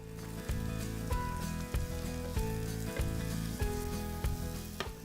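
Pumpkin pieces fry in a pan with chili and garlic in butter or olive oil, giving a steady close sizzle broken by repeated scraping stirs at roughly even intervals, with no voices.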